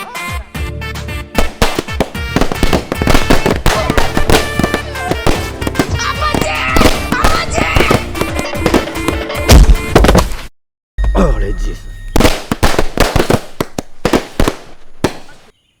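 A rapid string of firecrackers bursts loudly and closely, the dense cracks and bangs running almost nonstop, breaking off briefly for a moment of silence, then resuming before fading.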